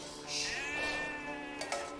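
A sheep in a real-time strategy match bleats once, a wavering, nasal cry lasting over a second, fairly clear above faint background game ambience.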